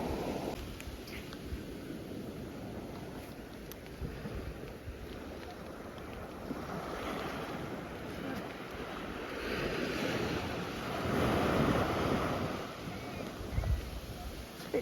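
Ocean surf washes onto a beach on a sunny day, a steady broad roar of breaking waves with wind buffeting the microphone, swelling louder toward the end.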